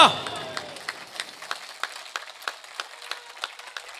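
Audience applause at a poetry recital about the Pulwama martyrs, scattered individual claps in a loose rhythm following a sharp opening sound, fairly close and moderately loud.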